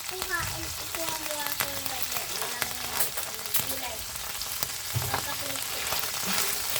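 Garlic sizzles steadily in a hot pan while freshwater shrimp are sautéed for a coconut milk stew, the frying hiss continuous with occasional stirring knocks.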